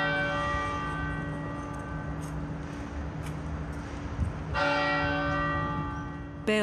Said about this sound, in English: Bells pealed out across Melbourne and Sydney